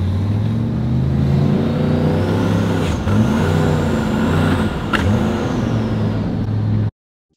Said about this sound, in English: Let me show y'all what the turbo sounds like.